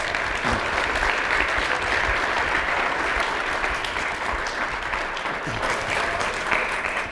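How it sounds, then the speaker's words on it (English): A live audience claps steadily to welcome guests onto a stage at a talk on first impressions, a dense, loud wash of applause that holds evenly for about seven seconds with no speech. "Please help me give them a round of applause."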